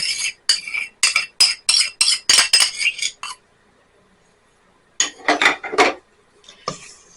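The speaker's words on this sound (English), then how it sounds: "Stir all of it together." Spoon scraping and clinking around a bowl while melted butter is stirred into a blueberry crumble topping, a run of quick rhythmic strokes, a pause, then another short burst of stirring, close and fairly loud.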